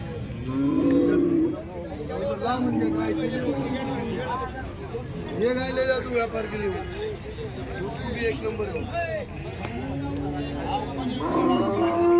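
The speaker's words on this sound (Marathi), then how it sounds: "इकडे गिर जातीची गाय इकडे पाहू शकता आपण" Gir cows moo repeatedly with long, drawn-out calls, several animals overlapping amid a crowd's busy chatter at a cattle market in Chalisgaon.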